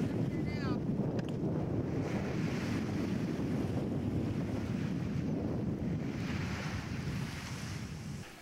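Ocean surf on a New Zealand beach rolls in a continuous low roar, mixed with gusty wind buffeting the microphone, steady throughout.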